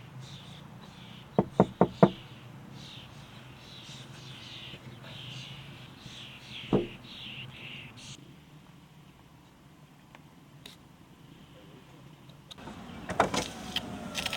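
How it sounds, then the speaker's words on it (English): A burst of loud, sharp knocks on a car window early on, then quieter interior rustling, a single thump, and more knocking near the end. "I was awoken by a loud knock on my window."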